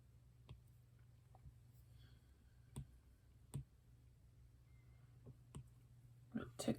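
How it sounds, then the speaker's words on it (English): Faint, sparse tapping: a handful of light, sharp clicks spaced irregularly over a quiet background hum, with a small cluster near the end. "you guys all have to listen to my tappy tap tap sound now"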